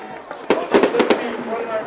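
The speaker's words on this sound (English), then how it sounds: "fireworks, and how about that? It's quite a show." Fireworks burst at a high school football game, a cluster of four or five sharp bangs in quick succession over a crowd's murmur, with a commentator's voice nearby.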